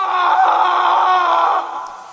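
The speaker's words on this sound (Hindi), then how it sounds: "और फिर अचानक किसी आदमी के चीखने की आवाजें आनी शुरू हो गई।" A man screaming in one long, loud, strained cry that holds steady and then trails off near the end, close and alone.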